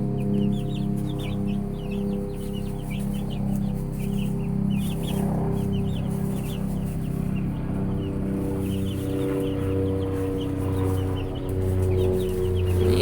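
Chickens in a coop freshly laid with bedding cluck and chatter in frequent short calls, close by and fairly loud, over a steady low hum.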